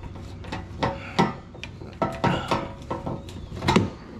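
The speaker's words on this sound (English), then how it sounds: "We're screwing it now." Screws are driven with a multi-bit screwdriver while a dishwasher is being installed, giving faint, irregular scraping and creaking turns in short bursts across a few seconds, with no talking.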